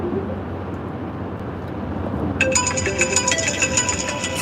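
A phone ringtone plays through a car's audio system, its repeating electronic chime starting partway in over the low hum of the moving car.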